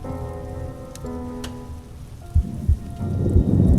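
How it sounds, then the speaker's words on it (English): Rain falls steadily during a raging storm, with a dense hiss and a couple of low thudding thunder-like knocks toward the end, all under background music. "The storm is raging."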